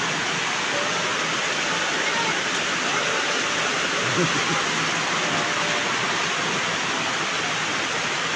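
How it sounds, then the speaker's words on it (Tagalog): Heavy rain pouring outdoors in a rural field setting, a loud, constant hiss of dense rainfall that fills the whole stretch without a break. "Lakas ang ulan guys oh."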